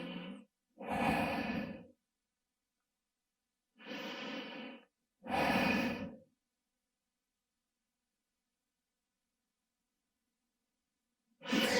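Slow, deep breaths taken while holding a body stretch, two pairs of audible inhale-and-exhale sighs separated by silence, close and clear, with another breath starting at the end.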